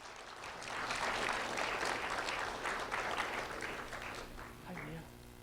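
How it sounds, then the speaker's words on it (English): A round of applause for a third-grade student at a sheriff's office recognition event, steady clapping from a crowd, soft and a little distant, tapering off near the end. "a round of applause for Mia Rogue"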